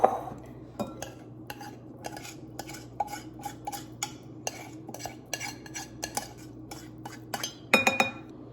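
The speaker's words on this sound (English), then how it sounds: "First, I'm going to add the rice." A spoon scrapes and taps repeatedly against a bowl while rice is scooped in, a steady series of light clinks and scrapes close by, with no talking.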